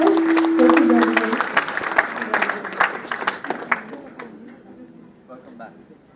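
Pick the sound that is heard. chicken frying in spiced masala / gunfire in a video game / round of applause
round of applause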